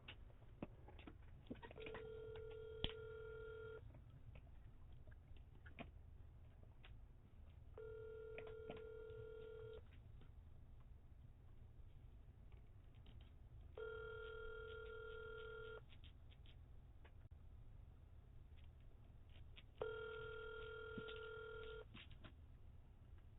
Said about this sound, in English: try Harley's number and see if she'll talk to you through Harley's phone